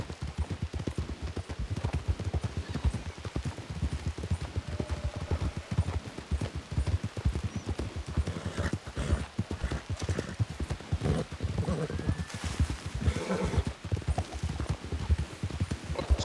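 Horse hooves clip-clop steadily in the Red Dead Redemption western video game, a continuous rhythmic trot at moderate level, with a brief whinny and faint voices in the background.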